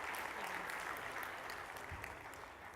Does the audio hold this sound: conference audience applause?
yes